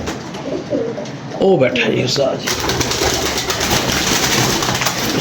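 A surkha pigeon coos in a loft, its low calls mixed with speech from men nearby.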